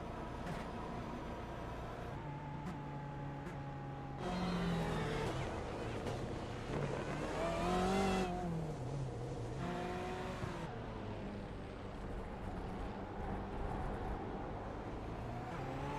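Race car engines drone and rev on a pace lap at Sebring in a racing video game, a steady loud whine with rising and falling pitch as cars accelerate and shift, continuous throughout.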